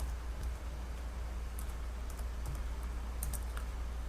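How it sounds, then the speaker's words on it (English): Steady, soft clicking of typing on a computer keyboard while entering an order number, a quiet continuous patter of keystrokes with no voices. "So I'm gonna type in my order number that I want to invoice."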